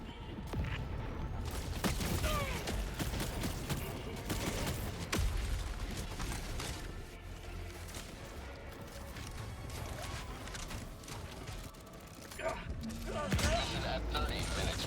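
Gunfire in Helldivers 2 during a solo Super Helldive mission, a dense, continuous barrage of shots and explosions running throughout at a steady loud level, with game voice lines over the top.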